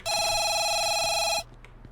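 A telephone rings in the video game No Delivery: a single bright, trilling electronic ring lasting over a second, then cutting off abruptly into quiet background.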